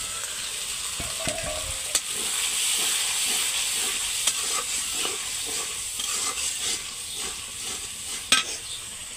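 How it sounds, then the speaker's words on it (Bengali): Ground spice paste frying in a pan as water is added, a continuous close sizzle and hiss with scattered clinks of a spoon stirring, no voices over it. "পানি দিয়ে দিই মশলার মধ্যে।"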